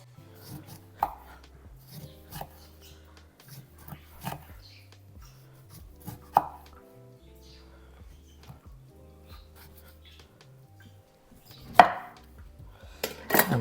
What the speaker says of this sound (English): I'm going to chop some of the lemon